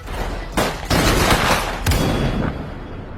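Guards open fire on cave creatures at a main gate, a loud, dense burst of gunfire with sharp volleys and booming reports layered into a continuous roar.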